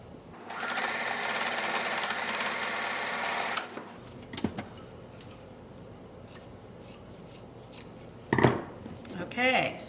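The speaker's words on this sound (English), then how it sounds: "Cut my little threads off." A sewing machine whirs steadily for a few seconds while stitching a fabric bag made from repurposed clothes, then stops. Scissors snip loose threads off the bag in several short, crisp cuts separated by quiet handling noises.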